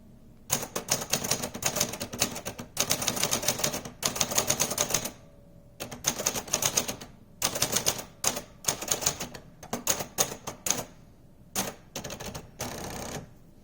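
A Brother JP7 typewriter being typed on, with bursts of rapid key clacks separated by short pauses and occasional carriage bell or return sounds, loud and close with no talk.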